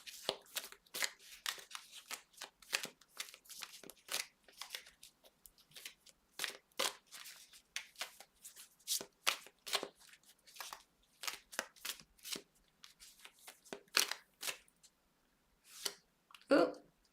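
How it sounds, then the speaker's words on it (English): A deck of tarot cards shuffled over and over by hand, with quick soft riffling clicks and crisp flutters, close and fairly quiet, running on with short pauses. "Too many cards. I'm going to keep shuffling."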